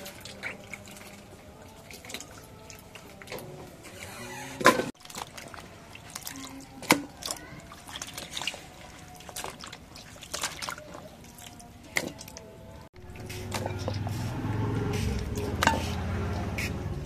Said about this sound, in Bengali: এখন মাছগুলো ধুয়ে নেই